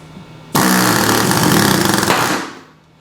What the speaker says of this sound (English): So to install a rivet, you come over the stem, pull the small trigger